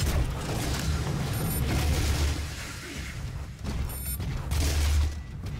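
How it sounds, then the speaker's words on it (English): Gauss Cannon fire in Doom 2016: heavy booming blasts with deep low rumble and bright bursts, loud and dense throughout, with a couple of sharper surges near the start and end amid continuous combat noise. "Apparently the Gauss Cannon didn't do a whole lot to him."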